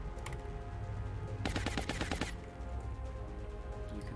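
A rapid machine-gun burst fires during a tactical firefight in XCOM: Long War, a dense rattle of quick shots lasting under a second over a low game hum, with a couple of isolated shots just before.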